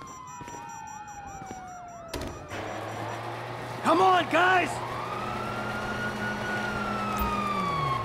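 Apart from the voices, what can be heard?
police sirens in video game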